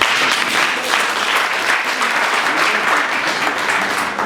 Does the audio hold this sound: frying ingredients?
no